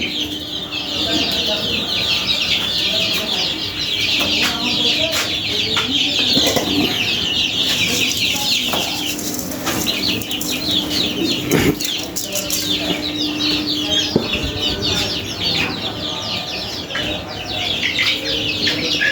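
A flock of native country hens clucks while chicks peep constantly in a high chorus, with occasional wing flaps and a faint voice in the background.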